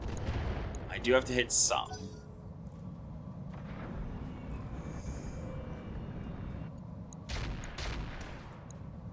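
Weapons firing in the RTCR video game: a sharp cluster of loud gunshot bursts early on, then a low rumbling backdrop with scattered fainter shots, while someone talks quietly.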